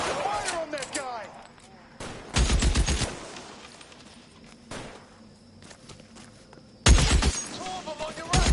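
Bursts of gunfire crack out during a shootout in the video game L.A. Noire, with sharp rapid volleys separated by quieter gaps and game voices talking between and over the shots.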